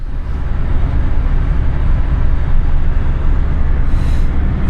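Car driving after a seized brake caliper was repaired, heard from inside as a loud, steady low engine and road rumble that holds constant throughout, with no talk.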